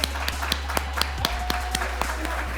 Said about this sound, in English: Can we please give Donna a really big round of applause?